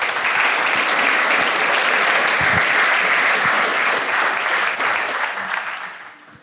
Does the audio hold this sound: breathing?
no